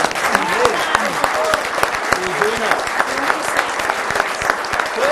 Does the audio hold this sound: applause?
yes